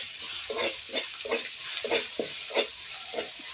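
Jackfruit stem pieces frying in a pan with salt and turmeric, a steady sizzle broken by repeated rhythmic scrapes of stirring, close and alone.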